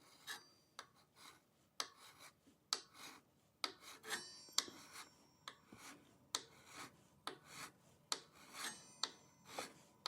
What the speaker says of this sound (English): Now I am going to go ahead and just take a flat file and get this as level as I possibly can.